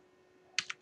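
Three quick keystrokes on a computer keyboard, close and crisp, in a short irregular burst after a near-silent moment.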